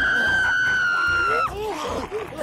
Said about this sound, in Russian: Но вдруг раздался новый крик.